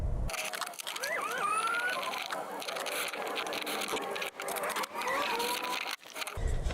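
Screws are driven in to mount a speaker in a 2018 Mercedes Sprinter 4x4 van, with a power driver whining and rising in pitch across several short runs, close and loud, with scraping and handling noise between them.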